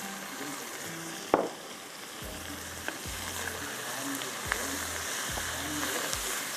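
Tomatoes and achari masala with fennel and mustard seeds sizzle steadily in a hot pan, with a few sharp clinks and scraping stirs over the continuous frying hiss; no speech.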